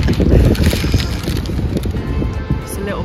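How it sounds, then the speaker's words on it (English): Outdoor wind on a London street, rumbling and buffeting close against the microphone in steady gusts for the whole moment, louder at the start, with faint voices mixed in. "It's quite windy."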